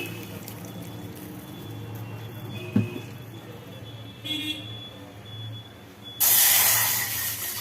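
Water poured into a tea pan set on a lit stove for tea, starting as a loud, steady broadband rush near the end after a stretch of quieter kitchen background.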